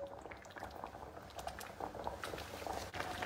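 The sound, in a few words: pouring strained safflower water into the dish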